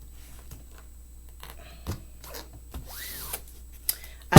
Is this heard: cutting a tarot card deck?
yes